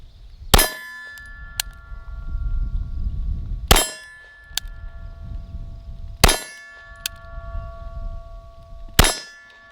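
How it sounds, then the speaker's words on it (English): Four loud, ringing clangs at roughly three-second intervals as a Canik TP9 DA pistol fired double action hits steel targets, each strike leaving a metallic ring that decays, with faint outdoor rumble between. "Take these, put them in there, and shoot them all double action."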